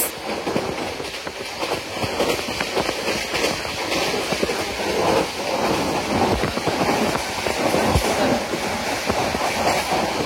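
Onboard the Mohanagar Godhuli Express travelling from Brahmanbaria to Dhaka at over 70 km/h: a constant loud rumble with rhythmic clickety-clack of wheels over rail joints and a brief squeal near the end, no talking.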